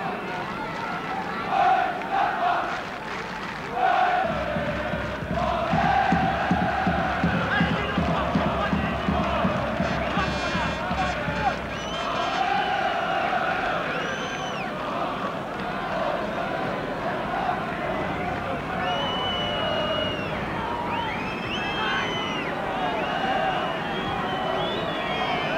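A football stadium crowd at a 1988/89 Bundesliga match between Borussia Mönchengladbach and Borussia Dortmund roars, cheers and chants continuously at a distance, with a commentator talking over the din.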